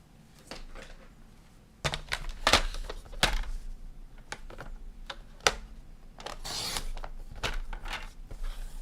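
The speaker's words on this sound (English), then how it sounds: "so I'm going to trim it" A paper card being trimmed to straighten its edge, heard as a series of crisp cutting and rubbing bursts, some sharp and isolated, others grouped in quick runs, close by with no talking.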